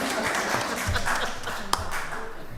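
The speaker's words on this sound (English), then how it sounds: "Let's give the Chief a round of applause." Audience clapping at a Board of Commissioners meeting, honoring Chief Mack's upcoming birthday: a short burst of dense, steady applause from a room of people, moderately loud, with little talk.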